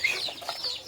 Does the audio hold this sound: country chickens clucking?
yes